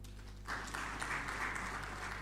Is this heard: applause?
yes